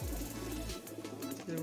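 Soft, low cooing of a red-eyed male Madrasi pigeon close by, one drawn-out coo followed by quieter murmuring sounds.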